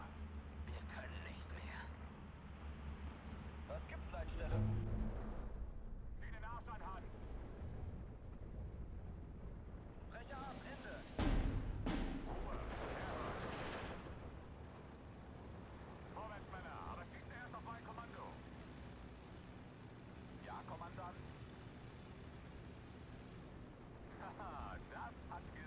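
Artillery barrages in the WWII strategy game Steel Division 2 thud and rumble at a distance, with one sharp heavy blast standing out midway, beneath a low, quiet voice that speaks throughout.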